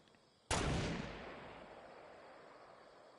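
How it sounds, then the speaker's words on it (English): A single sharp sniper shot in the battle royale game Fortnite, a sudden loud crack followed by a long fading echo, with no other sounds. "so there's a sniper somewhere close"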